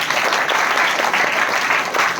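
Enthusiastic applause from a gathering at a birthday celebration for a school director, honouring the teaching staff: dense, steady clapping from many hands throughout the short burst.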